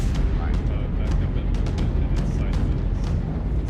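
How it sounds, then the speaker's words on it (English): Dense, continuous gunfire in the space game Star Citizen Alpha 4.10, with rapid overlapping shots and booms, loud and steady throughout, with distant bursts layered underneath. "I can hear all the other gunshots."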